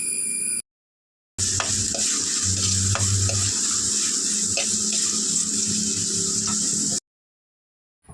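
Sliced onion sautés in a pan with ginger and garlic under a loud, continuous close sizzle. Regular scraping strokes of a spoon stir it, with brief silent gaps at the start and end.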